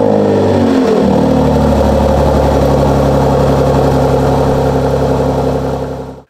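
A Mercedes-AMG engine in Sport Plus mode with exhaust valves open, a loud, close, deep burbling drone that steadies after a brief rev drop, then cuts off abruptly.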